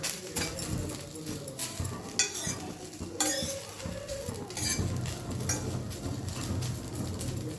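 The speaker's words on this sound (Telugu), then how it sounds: "నేను తీసుకున్న గోంగూర 3 టైమ్స్ ఇలా వేపుతాను" Gongura leaves dry roasting in a pan: a spatula stirs and scrapes against the metal with busy, irregular clatter and a light crackle, close up and fairly loud, with no talking.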